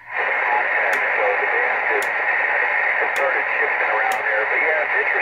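A Ten-Tec Triton IV transceiver receives a signal as a steady hiss of band noise with faint voice-like chatter, broken by four evenly spaced clicks of static.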